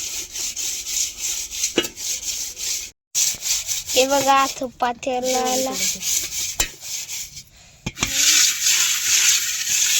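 Hands rub red clay over the outside of a metal cooking pot, giving rough scraping strokes that stop and start, with someone talking over part of it.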